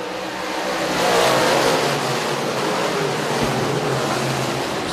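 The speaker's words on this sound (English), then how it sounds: "Dirt Car 358 Modifieds are green at Can-Am." DIRTcar 358 modified race cars roaring at Can-Am Speedway, a dense pack of engines swelling to a loud peak then holding a steady rumbling drone with broad noisy texture, no talk.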